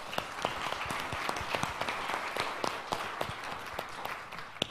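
Audience members clap at a retirement lecture, a moderately quiet, fairly sparse patter of individual claps from a smallish crowd, continuing steadily throughout.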